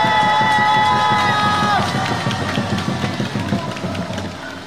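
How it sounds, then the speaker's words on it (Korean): A large crowd at a political rally in Yeouido, Seoul, roars and cheers loudly, with a sustained tone fading out partway, then continued crowd noise and shouting in the distance. "박수 한번 보내주시기 바랍니다"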